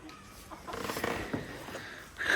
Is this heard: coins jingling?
no